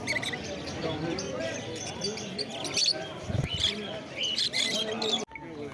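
Lovebirds and other caged birds at a bustling bird market chirp and tweet in a dense, continuous chatter, with a person talking over the busy birdsong.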